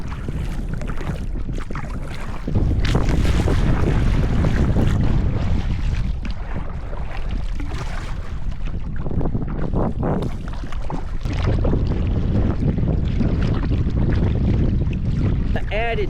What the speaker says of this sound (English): Wind is already picking up as I get out just a little bit.